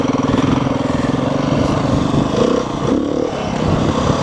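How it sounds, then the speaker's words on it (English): A Beta 390 RRS dual-sport motorcycle engine runs steadily and close by, a continuous buzzing drone with small swells in throttle and no voices. "this bike is vastly different in feel from the 500, not just in terms of power, but power delivery"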